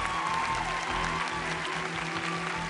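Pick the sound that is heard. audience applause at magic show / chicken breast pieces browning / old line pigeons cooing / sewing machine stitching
audience applause at magic show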